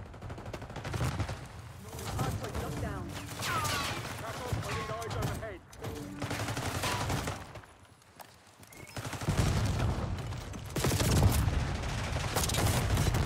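Rapid bursts of gunfire in Call of Duty: Black Ops 6 multiplayer, repeated volleys and single shots in close succession throughout, with someone talking over much of it.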